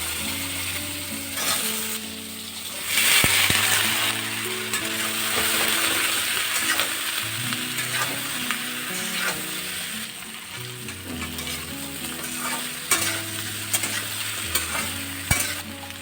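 Dried chillies and a pinch of turmeric frying in hot oil in a home kitchen, steady close sizzling throughout with repeated scraping and stirring strokes of a utensil against the pan, no talk.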